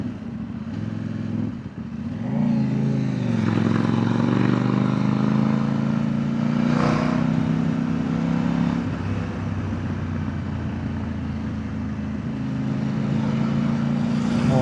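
A CFMOTO 800NK motorcycle engine idles roughly and then revs up and settles, loud and close, with a throaty rumbling tone and no speech.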